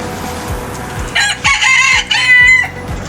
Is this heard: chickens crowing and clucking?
yes